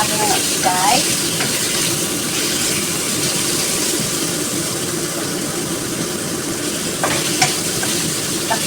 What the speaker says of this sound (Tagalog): Yan, nagisa na natin ang ating pork.